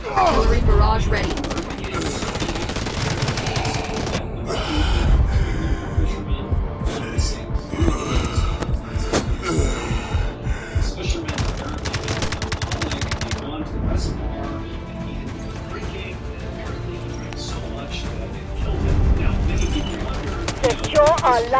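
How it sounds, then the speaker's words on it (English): Dense, loud gunfire and heavy explosive impacts from an artillery barrage in the mobile shooter Delta Force, with rapid automatic bursts and booms continuing without a break for over twenty seconds. "Artillery barrage ready."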